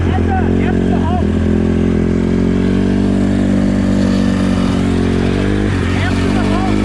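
An 85cc two-stroke dirt bike and a 150cc four-stroke dirt bike accelerate together. They give a loud, steady, buzzy engine roar with layered tones throughout, and voices can be heard beneath it.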